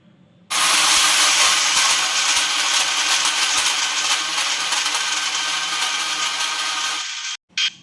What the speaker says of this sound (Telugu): ఎండు కొబ్బరి, పుట్నాలు వేసుకొని మిక్సీ చేసుకోవాలి.